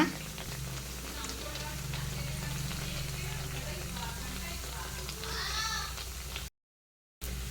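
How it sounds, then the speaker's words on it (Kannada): Black-eyed pea vadas bubble and sizzle in hot oil, a steady crackling fry running throughout, with a few clinks from stirring and a brief gap near the end. "ಇವಾಗ ಫ್ರೈ ಆಗ್ತಾ ಇದೆ."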